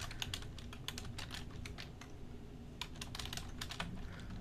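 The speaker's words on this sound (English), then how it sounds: "Typing them up." Rapid keystrokes clatter on a computer keyboard in irregular bursts with a short lull midway, close and fairly quiet, with no talking.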